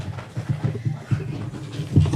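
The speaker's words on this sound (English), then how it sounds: "We have to wrangle all the dogs." Dogs pant rhythmically at close range at a county dog warden's shelter, quick breathy puffs with a faint whimper, with a bit of quiet talk in the background.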